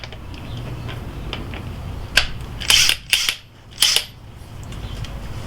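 A Makita 18V XWT14 impact wrench working on the lug nuts of a Chevy Silverado, torqued to 145, with several short loud rattling hammering bursts close by over a steady background hum, no talk.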